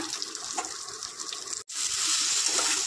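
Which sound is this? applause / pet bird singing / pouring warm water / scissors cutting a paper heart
pouring warm water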